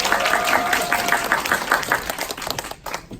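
Audience applause at a Korean business leadership school gathering, as a guest speaker is welcomed to the stage: dense, loud clapping from a seated crowd that carries on steadily and thins out toward the end.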